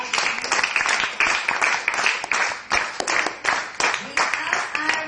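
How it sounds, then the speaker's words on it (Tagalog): Church congregation applauding for fathers at a Father's Day service, a loud crowd clapping in repeated surging waves for about five seconds, with voices mixed in. "Isa pang palakpak para sa ating mga ama."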